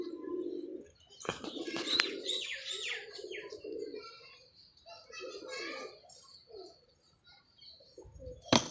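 Pigeons coo and birds chirp intermittently, mixed with bursts of voices and occasional clattering noises nearby.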